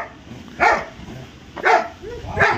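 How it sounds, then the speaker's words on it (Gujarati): A dog barks outdoors near horses, three loud distinct barks spaced about a second apart over quiet background. "કૂતરો તો ચાલુ જ છે બોલવાનું."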